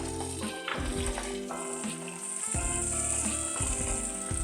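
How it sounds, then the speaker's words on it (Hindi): Tomatoes go into softened onions sizzling in a hot pan, giving a steady frying hiss with clattering scrapes and knocks of a utensil against the pan. The sounds are close and continuous, with no talking. "ये देखिए प्याज सॉफ्ट हो चुकी है थोड़ी। इसमें अब मैं टमाटर डालूंगी"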